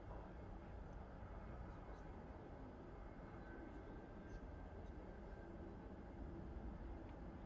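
An easyJet airliner arriving from Belfast descends to land at Manchester Airport, a steady, muffled jet roar held at a constant, distant level without clear rise or fall.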